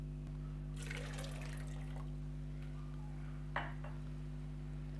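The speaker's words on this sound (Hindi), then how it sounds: "मैं इसके अंदर तकरीबन 2 गिलास पानी डाल रही हूँ।" About two glasses of water are poured into freshly made pomegranate juice, producing a soft, brief splashing trickle over a steady background hum, followed by a small clink.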